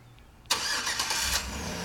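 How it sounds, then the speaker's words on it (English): A 2008 Chevy Tahoe LTZ engine cranks and fires via remote start, a sudden loud catch after a quiet half second, then settles into a steady, close idle with no talking. "This truck also comes with a neat feature. It's called remote start."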